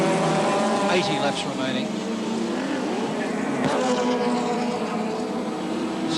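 A 1984 touring car races into the pits at Sandown during the Castrol 500, its loud engine droning steadily and close throughout, with a commentator talking over it.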